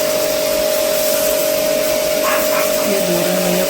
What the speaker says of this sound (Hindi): ये वाटर प्रेशर से साफ हो रहा है